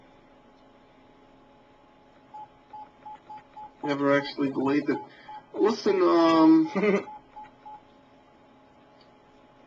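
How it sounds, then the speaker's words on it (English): Short cell phone keypad tones beep in an evenly spaced run, quiet and close, before and after a stretch where a voice talks over them. "I'm just tinkering with my cell phone."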